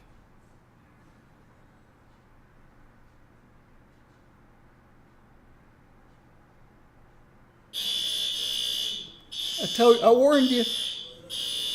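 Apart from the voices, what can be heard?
fire alarm going off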